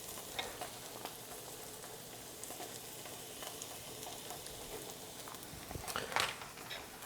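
Tomato paste sizzles steadily in a pan while a utensil scrapes and stirs it, producing soft rhythmic scraping over the constant frying hiss, quiet and close.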